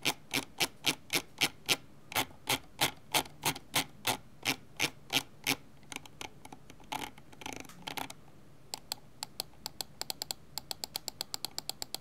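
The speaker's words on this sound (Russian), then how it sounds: "Звук прокрутки довольно громкий" Scroll wheel on a Zowie EC3-C gaming mouse turns in rhythmic steps, fairly loud close clicks coming in regular bursts, then faster rapid ticking runs, with no one talking.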